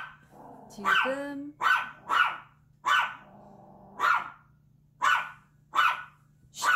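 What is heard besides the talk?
dog barking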